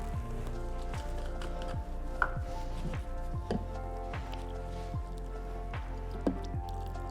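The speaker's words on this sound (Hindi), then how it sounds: "सही से अपना बैटर मिक्स करेंगे।" Gram flour pakora batter with water, ginger and garlic being stirred and beaten in a bowl, giving a steady run of close wet squishing and slapping strokes in a repeating rhythm with no speech.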